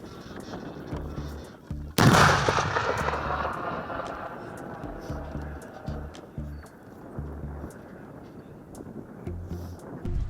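A single heavy blast from a Western artillery gun booms midway, loud and sharp, then rumbles away, over a repeating low mechanical thumping and wind.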